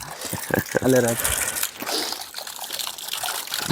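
A village tap running full in a tribal hamlet during the rainy season, a close splashing trickle of water heard under people talking.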